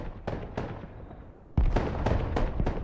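Artillery guns firing in the modern military strategy game Broken Arrow, a series of sharp booming shots with a loud heavy blast midway, followed by several more rapid reports.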